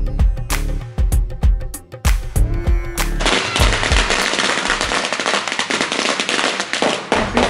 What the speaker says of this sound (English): Every 5 minutes, they have these fireworks that go off inside of a little hut.